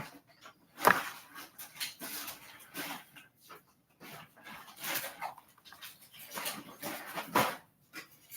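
A puppy whimpers indoors in soft, intermittent whines and short yelps, scattered in bursts over several seconds with quiet gaps between.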